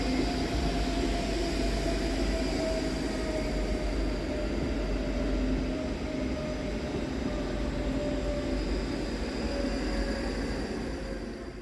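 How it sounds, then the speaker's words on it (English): Scotrail class 334 units 334033 and 334027 passing through a station, a loud steady rumble of wheels and traction whine with a sustained electric tone, holding at constant strength and easing off slightly at the end. "And quickly on his heels is 334033 and 334027, with the 1854 Scotrail service from Helensburgh Central to Edinburgh Waverley."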